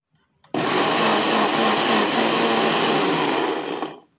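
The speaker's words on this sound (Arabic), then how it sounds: "وانا غادي نطحن دابا البصلة باش تاهي نزيدها عليه" A blender grinding onion with a little water for Moroccan roasted chicken, a loud, steady whirring roar that starts abruptly and runs about three and a half seconds before cutting off.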